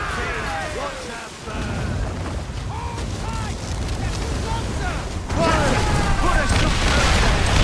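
Ship cannons boom in volleys during a naval battle in Assassin's Creed Rogue, with a dense roar of fire that swells louder near the end while crew members shout over it.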